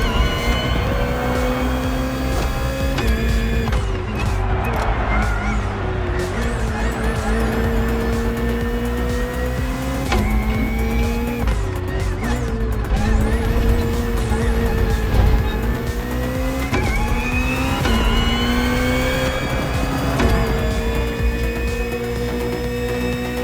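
Hybrid V8 race car in The Crew Motorfest, engine droning steadily at high revs throughout with rising and falling pitch as it shifts through gears, loud and close, with no talk.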